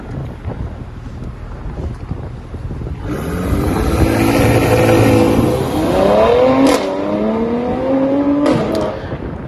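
A V6-powered car's exhaust in a subscriber exhaust contest, idling low before climbing into loud rising revs that peak, dip and rise again, with rough, raspy harmonics and wind buffeting the microphone.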